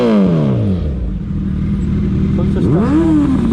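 A Suzuki Hayabusa Gen 3 superbike engine on a road ride hums loudly in a smooth drone, then revs up in a quick rising sweep near the end, close to the microphone.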